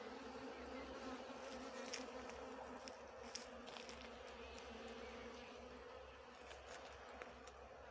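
Honeybees buzz at the hive entrance, returning with pollen near a shrub, making a dense, continuous drone from many insects at once, with individual bees passing close now and then.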